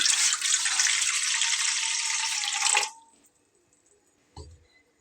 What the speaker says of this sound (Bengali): এখানে একটা কড়াই নিয়ে নিয়েছি আর তাতে আমি এখন দিয়ে নেব পানি